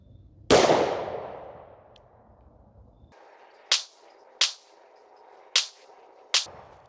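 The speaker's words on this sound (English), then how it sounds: "I'm gonna shoot a 5-shot group." A .357 SIG pistol loaded with DoubleTap 125gr controlled expansion ammunition fires five sharp, loud shots outdoors, a single shot followed after a pause by four more at irregular intervals.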